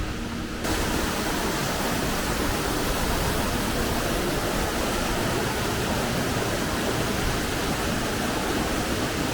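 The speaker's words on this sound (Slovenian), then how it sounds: "Zdaj so pa nad slapom." The Boka waterfall roars from just above its drop on a Slovenian mountain ridge, a steady, loud, unbroken rush of falling water that goes on alone with no voices.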